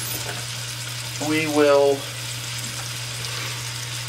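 Kibbeh patties fry in hot oil with an even, unbroken sizzle throughout, while a voice speaks briefly over it.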